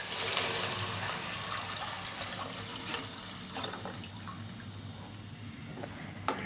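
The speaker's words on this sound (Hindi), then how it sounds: "अब इसमें मैं 1 लीटर के करीब पानी डाल दूंगी।" About a litre of water pouring into a pot of chicken soup, a steady rushing splash that continues for several seconds, with a few small clinks and drips near the end and no talking.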